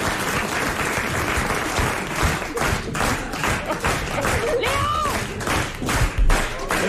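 A studio audience at a 1994 French radio talk show claps in a thick, even burst of applause lasting several seconds, with a voice briefly cutting through partway.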